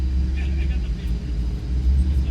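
A car engine idling close by with a low, uneven rumble that wavers and sputters slightly instead of running smoothly.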